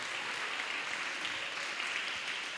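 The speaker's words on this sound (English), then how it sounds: "Can we get a big round of applause?" An audience applauds at a coaches' seminar, giving a continuous, fairly even wash of clapping from a crowd in a hall, with no clear speech over it.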